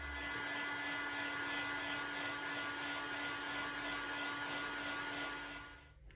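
A heat gun blows steadily on the smashed home button section of an Apple iPad 9th gen during a digitiser replacement, giving a constant close whooshing hum with a faint tonal whine that cuts off at the end.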